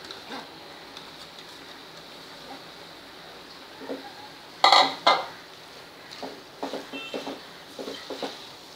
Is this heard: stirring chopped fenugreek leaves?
yes